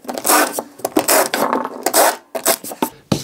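Countersink bit grinds into screw holes in wood for a garden riddle compost sifter, giving short rasping bursts with brief pauses between, loud and close.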